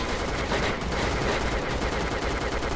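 Shotgun blasts in a first-person shooter video game, with dense overlapping gunfire that fills the whole short stretch, loud and continuous, with no talk.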